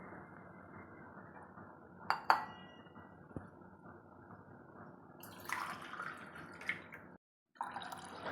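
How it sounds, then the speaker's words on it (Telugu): Two glasses of water go onto washed toor dal in a cooking pot, with soft clinks and drips followed by a brief splashing pour, close and quiet. "2 గ్లాసుల వాటర్ పోసుకుంటున్నాను."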